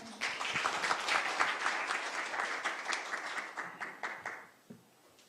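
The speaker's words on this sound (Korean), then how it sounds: "여러분 큰 박수 부탁드립니다." An audience at a regional software business conference applauds loudly and steadily, with dense overlapping claps that trail off near the end.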